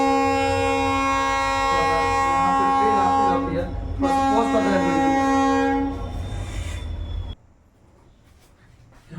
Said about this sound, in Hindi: यहाँ से ट्रेन जाती रहती है इसलिए वीडियो को रुकना पड़ता है।